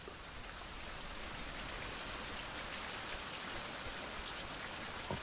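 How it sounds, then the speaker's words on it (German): Steady rain pours down in the video game Survival: Fountain of Youth, a dense, even hiss of drops that continues unbroken and fairly loud with no voices over it. "Okay, Regen hört schon mal auf."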